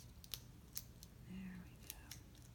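Scissors or a paper trimmer cutting card stock for a handmade card, a few sharp close snips and a short sliding cut in a quiet room, no talking.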